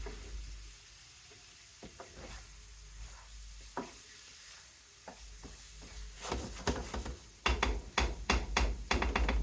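Taco filling cooking in a pan turned down to a simmer: low, soft sizzling at first, then louder bursts of crackling and spoon taps toward the end.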